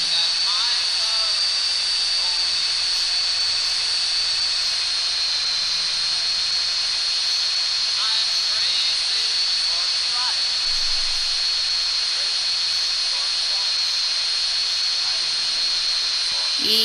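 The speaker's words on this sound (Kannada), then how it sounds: "ಸೊ ಇವಾಗ ಪ್ಲೇನ್ ತಗೊಂಡು ಹೋಗ್ತಾ ಇದ್ದೀವಿ" An airplane in GTA San Andreas drones steadily throughout, a constant hissing engine roar with a high whine above it, loud and unbroken, with faint chirps scattered through the background.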